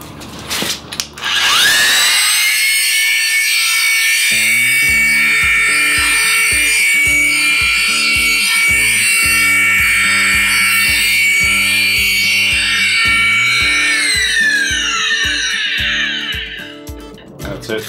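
Makita PW5001C wet polisher with a 200 grit pad grinding stone, motor spinning up to a loud, sustained whine with a rhythmic pulsing chatter underneath, then winding down at the end.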